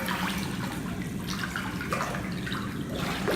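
A small test container fills with spa water six inches under the surface, making a steady, close, gurgling water rush throughout.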